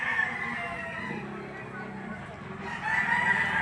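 A rooster crows at a livestock auction market, a near, drawn-out call that rises and trails off, with someone talking alongside it.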